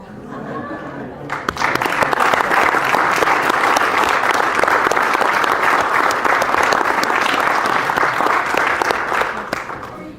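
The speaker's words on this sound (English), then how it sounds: "I think these gentlemen should stand and have a round of applause." Sustained round of applause from the audience at a county board of commissioners meeting, starting after a second of quiet room tone and continuing steadily and loudly to the end.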